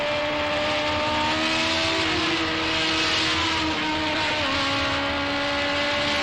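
Race car engine on an old onboard racing lap, a loud continuous high-pitched engine whine with wavering pitch and no gaps, close up and alone.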